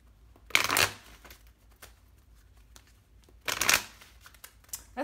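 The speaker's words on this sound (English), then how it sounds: "Let's pull some love cards for you." Tarot cards for a love reading are shuffled in two loud riffling bursts, one near the start and one later, with softer card handling and light flicks between them and no talking.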